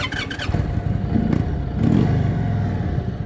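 A motorcycle riding on Route 66 toward Barstow, California, its engine droning steadily and loudly with wind rush, the throttle swelling briefly midway.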